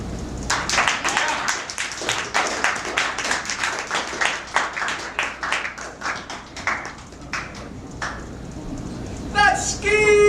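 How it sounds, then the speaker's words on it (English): A small audience claps at a student talk on justice, the individual claps distinct and fairly close, steady then thinning out. A voice cuts in briefly at the end. "Round of applause from them."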